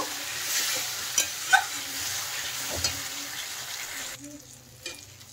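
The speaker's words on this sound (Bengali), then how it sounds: "মশলা থেকে তেল বেরোয় ততক্ষণ কষাতে হবে" Masala is stirred and fried in oil for a fish curry with potato and cauliflower, giving a soft, low sizzle broken by a few spatula scrapes and knocks in a quiet kitchen, fading toward the end.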